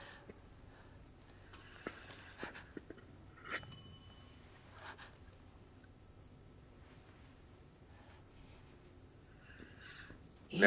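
A hotel bell rings through a DualSense controller speaker in the horror game The Medium, giving a few faint, thin dings amid quiet ambience, with someone talking at low level.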